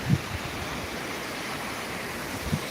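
Floodwater of the swollen Bindusara river in Beed rushing after heavy rain, a steady broadband roar like a nearby torrent, continuous and fairly loud with a couple of low thumps, no voices.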